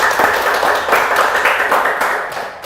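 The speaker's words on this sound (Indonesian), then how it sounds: "Tepuk tangan yang meriah untuk kita semuanya." Studio audience applauding during a Banyuwangi regional TV dialogue broadcast: a dense, steady wash of clapping hands that stays loud and close throughout, with no clear voice on top.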